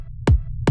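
Low-passed white noise from a synth makes a deep rumble that restarts with each kick drum, two punchy thumps less than half a second apart, each trailing into the same low rumble.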